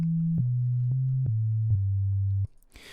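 A synthesizer oscillator plays a steady, pure, low waveform tone from the keys, stepping down through several held pitches with small clicks at each note change, then stopping abruptly.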